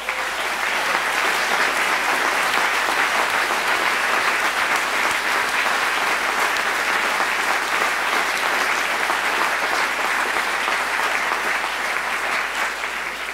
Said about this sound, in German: das ist wirklich ein grosser Applaus wert